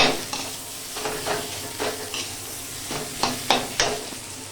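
Bitter gourd and boiled potatoes being stirred in a frying pan, with a steady soft sizzle under repeated scraping strokes of a spatula, close and moderately loud, no voices.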